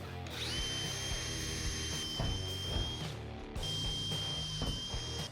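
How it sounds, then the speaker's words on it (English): A power drill whines at a high, steady pitch while drilling holes in the metal of a Fiat Ducato camper van, pausing briefly before boring again, close and continuous. "Starting with a smaller drill bit, I drill a hole in each corner."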